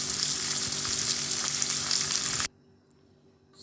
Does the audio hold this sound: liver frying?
yes